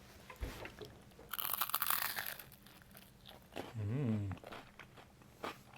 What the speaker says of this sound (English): That's got a slightly different kind of crunch sound.